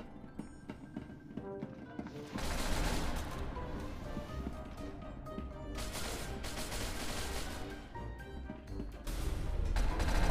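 Gunfire in the first-person shooter game SCP: Secret Laboratory, several bursts of sharp shots spread across the clip with quieter gaps between them.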